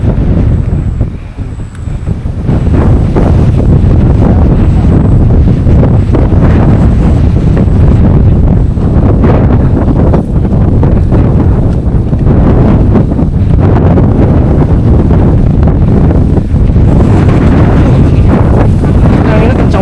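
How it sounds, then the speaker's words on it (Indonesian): Strong gusts roar steadily into the microphone on Gunung Butik, a 1,250-metre mountain, as a loud, continuous buffeting that barely eases from start to finish. "Anginnya kencang banget ya."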